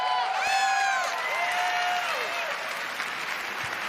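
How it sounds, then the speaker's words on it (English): An audience claps and cheers at an E3 gaming conference: dense, steady applause with rising whoops and shouts over it, loud and close throughout. "clapping."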